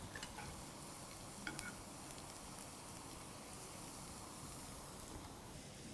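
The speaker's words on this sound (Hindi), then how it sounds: "गरम तेल में हम डालेंगे बारीक कटा हुआ लहसुन" Finely chopped garlic sizzles in hot oil in a pan, a constant soft crackling hiss with a few small pops, quiet and uninterrupted, with no voices.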